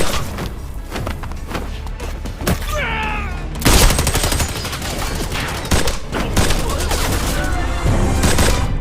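Gunfight in an action film: dense, loud volleys of gunshots and rapid automatic fire, with heavy thuds and booms between the bursts, continuing throughout.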